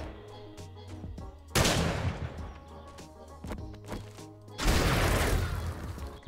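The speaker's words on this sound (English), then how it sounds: "I wonder how many shots it takes with a level 1 hunting rifle." A level 1 hunting rifle fires in the survival game 7 Days to Die: two loud, separate shots ring out over a droning game soundtrack, each followed by a lingering boom.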